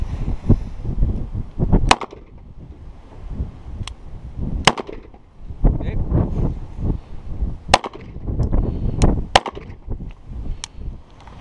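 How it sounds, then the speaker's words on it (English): .38 Special handgun fired into plywood during a penetration test, producing several sharp, loud cracks spaced irregularly over a rumbling, noisy background. "so we just shot a 38 Special"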